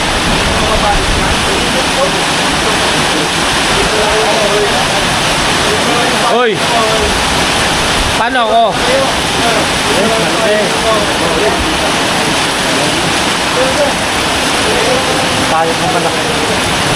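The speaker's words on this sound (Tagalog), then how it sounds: "ang lakas ng ulan" Heavy rain pours steadily throughout as a dense, constant roar, with people talking briefly over it.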